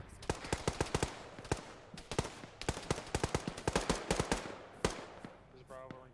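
Rapid bursts and single shots of gunfire in a military video game firefight, sharp cracks repeating in quick clusters across the whole stretch, some near and loud, others softer, with a brief radio-like voice at the end.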